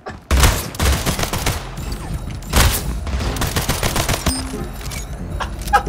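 Rapid pistol fire in the video game Splitgate, loud close bursts of sharp shots in quick succession with a few heavier booms, continuous over about six seconds.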